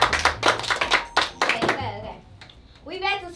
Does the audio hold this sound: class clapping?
yes